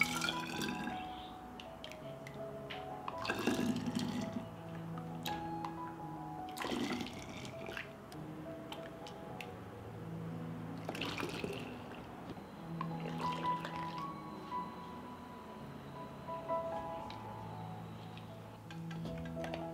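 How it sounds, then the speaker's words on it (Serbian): Hot homemade juice is poured into sterilized glass bottles, a close trickle and gurgle of liquid with occasional clinks and drips, rising and falling over several fills in a quiet room. "I sok sipamo u flaše."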